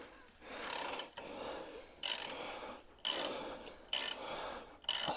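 A hand ratchet clicks in short bursts against a seized suspension bolt on a Jaguar XKR, with several rhythmic ratcheting strokes separated by brief pauses, close up and fairly quiet, with no talking.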